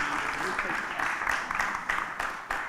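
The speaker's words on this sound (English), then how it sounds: "So we just want to give Ann a round of applause" Applause from the audience at a district community meeting, a steady dense patter of clapping lasting a few seconds at moderate volume.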